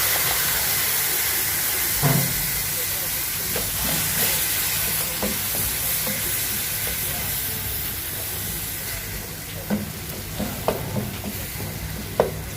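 Ground tomato sizzling in hot oil in a pan for an egg roast, a steady frying hiss throughout, broken by soft knocks and scrapes of stirring.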